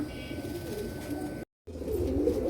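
A pair of pigeons coo low and soft nearby, with a brief silent gap partway through.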